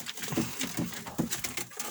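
Soft repeated cooing of a pigeon or dove, several low murmuring calls close by, with faint rustling in between.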